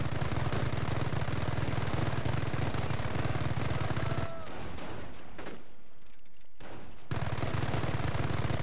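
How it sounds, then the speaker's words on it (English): A machine gun emplacement in Company of Heroes firing at enemy troops, a loud, relentless rapid-fire rattle that runs continuously, cuts out for a few seconds midway amid quieter battlefield noise, then resumes just as hard. "The MG emplacement is suppressing the enemy troops."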